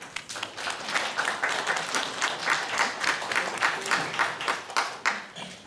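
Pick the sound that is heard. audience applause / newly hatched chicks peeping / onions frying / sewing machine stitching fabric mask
audience applause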